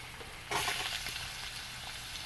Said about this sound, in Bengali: এবার আমি এই তেলের ভিতরে গাজরটা দিয়ে দেব।